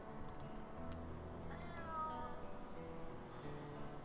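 A cat meows once, fairly faint, with a rising and falling cry over a steady low hum and light tapping, in the horror game Simulacrum.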